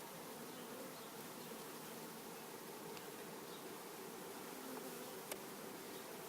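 Honeybees buzzing at a hive during queen installation, a dense steady hum of many insects, faint and even throughout with a brief click near the end.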